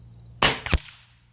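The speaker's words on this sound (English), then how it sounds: "I'm going to shoot all of these with 2 turns on the hammer spring" A single shot from a .25 Avenger air rifle firing a hunting pellet: a sharp, loud crack followed a moment later by a second snap, then a quick decay into quiet.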